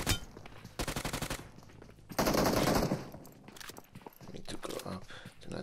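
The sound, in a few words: gunfire from PUBG Mobile video game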